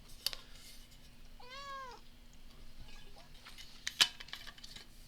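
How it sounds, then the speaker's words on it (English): A house cat gives a single clear, rising-then-falling meow, fairly close and alone against a quiet room with faint clicks afterward. "And the cat agrees with that."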